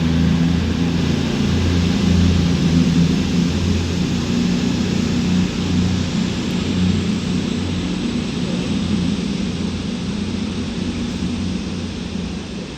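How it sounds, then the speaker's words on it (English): A Cross-country Voyager 221-120 diesel unit pulls out of Stoke-on-Trent station, its engines a loud, steady, low droning roar that holds throughout and fades only slightly toward the end. "(221-120) departs Stoke-On-Trent now with the 12:04 cross-country service to Bournemouth from Manchester Piccadilly"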